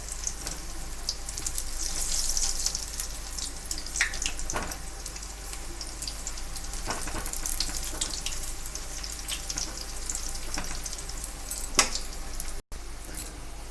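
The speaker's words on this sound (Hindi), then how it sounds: "पकोड़े हमारे एक साइड से पक चुके हैं, दूसरी साइड हम पलट देंगे इनको और अच्छे से पकाएंगे" Pakoras fry in hot oil, a soft continuous sizzle with faint clinks as they are turned, quiet and close.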